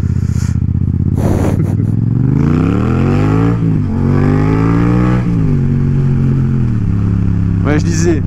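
A Yamaha MT-07 motorcycle with an Akrapovic aftermarket exhaust revs repeatedly, its raspy exhaust note climbing and falling in pitch several times, loud and close, with a few clattering knocks between revs.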